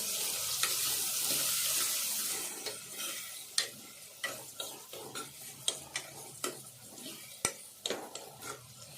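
Turmeric and ginger-garlic paste stirred in a hot pan for a potato curry. A sizzle fades as regular scraping strokes of a spoon take over, roughly one every second, close by.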